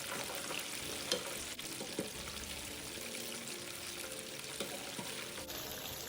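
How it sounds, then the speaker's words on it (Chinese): Pork ribs marinated in fermented red bean curd are fried a second time in hot oil over high heat, giving a steady, dense sizzle and crackle with faint stirring clinks and no talking. "再将油炸后的排骨倒入， 复炸45秒至1分钟。"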